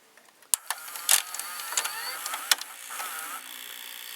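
An RCA VCR's tape mechanism whirs and clicks into play mode, with sharp mechanical clacks and gear noises followed by a steady running hum, heard close up.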